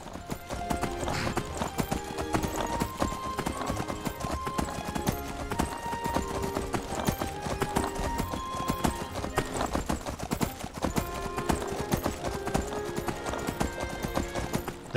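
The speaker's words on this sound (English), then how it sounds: "Go get on your horse." Horse hooves clip-clop steadily in modded Skyrim, a loud, close, rhythmic trot of repeated hoof strikes on hard ground continuing throughout with game music faintly beneath.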